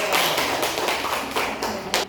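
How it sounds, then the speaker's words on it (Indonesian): Students in a junior high science classroom applaud their teacher, a dense run of hand claps with rhythmic surges across the whole stretch, close and steady. "Tepuk tangan buat Bapak"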